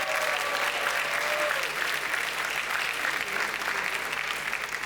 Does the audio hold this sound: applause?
yes